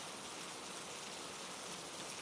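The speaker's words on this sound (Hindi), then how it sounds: "बस बारिश की आवाज" Steady rain falls continuously, a soft, even hiss with no voices, settling into a quiet, uniform wash of sound throughout.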